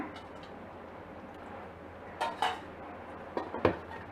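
A spoon stirs sago pandan pudding with coconut milk in a pot, producing four or so faint, scattered clinks and scrapes against the metal over a quiet background.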